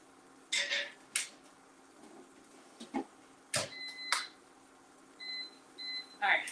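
Electronic beeps from an air fryer in a home kitchen, a few short high tonal chirps in pairs, spaced apart among faint clicks and handling noises.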